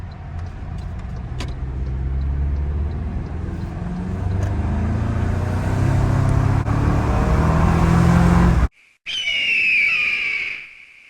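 A 2025 Toyota Tacoma pickup accelerating hard under turbo boost, a loud rising engine drone that climbs steadily for about eight seconds, cuts out abruptly, then returns briefly with a high whine before fading.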